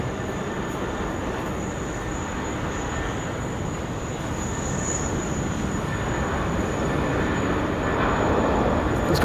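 An Airbus A320 on runway 16 right at Sydney Airport, its engines producing a loud, continuous broadband roar that holds steady and builds slightly toward the end, heard from a distance without speech.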